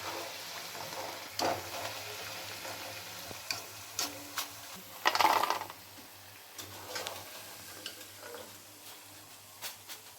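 Gavvalu, small wheat flour shell sweets, deep frying in oil: a low, continuous bubbling fry broken by intermittent scrapes and clinks of a utensil stirring in the pan.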